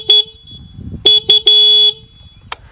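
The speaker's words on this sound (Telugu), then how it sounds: "హార్న్ యొక్క లౌడ్నెస్ అనేది ఒకసారి చెక్ చేద్దాం" A 2025 Honda Shine 125 motorcycle horn sounds up close and loud: one short honk, then three more in quick succession, the last held for about half a second, with a faint click afterward.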